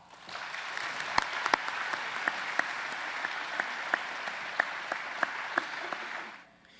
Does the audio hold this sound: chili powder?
no